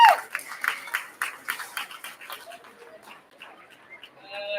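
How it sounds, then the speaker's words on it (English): A county fair livestock show crowd gives light, scattered applause for a heavyweight pig class, the patter close and uneven before thinning out, with a faint voice near the end. "give them a round of applause if you would"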